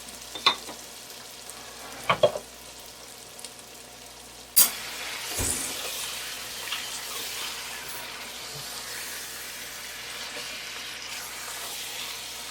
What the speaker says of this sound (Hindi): चिकन की अच्छी तरह से भुनाई कर लें।